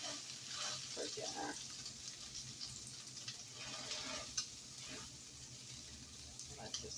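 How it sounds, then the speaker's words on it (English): Hamburger beef frying in a pan gives a low, steady sizzle with intermittent scraping and stirring, fairly faint and close. "I want to cook my hamburger beef that I'm going to add in here"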